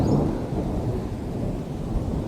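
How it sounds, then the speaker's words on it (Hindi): Heavy early-morning rain pours steadily with deep rumbling thunder rolling underneath, a dense, continuous storm roar close by. "इतनी बारिश और तूफान है सुबह अर्ली मॉर्निंग"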